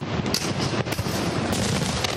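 A fireworks salute in Kazan goes off in a dense, continuous barrage of loud crackling bangs and booms that overlap without pause.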